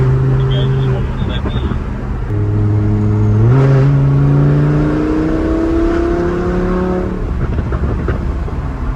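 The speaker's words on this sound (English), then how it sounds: "Yeah, that exhaust note is so dope." A Lamborghini Huracan's exhaust drones and then revs upward in rising pitched steps, loud and close, with a voice briefly heard over the engine.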